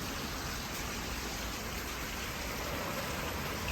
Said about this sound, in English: Light rain, nothing heavy.